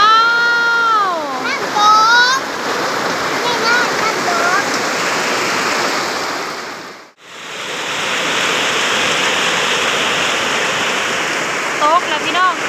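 Heavy rain pours down hard and constantly during a storm in Laos, a loud, dense hiss that briefly cuts out midway, with a person talking over it at the start and end.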